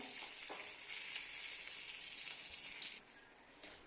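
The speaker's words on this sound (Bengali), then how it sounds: "মাছ ভাজা করছি। মাছটা হালকা ভেজে ফেলেছি। এখন দিয়েছি কারি পাতা।" Fish sizzles in hot oil with curry leaves, giving a dense, steady hissing crackle up close that eases slightly toward the end.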